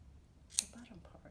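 A single quick snip of scissors cutting through a yarn pom pom, one short crisp click near the middle of a quiet moment with faint background noise.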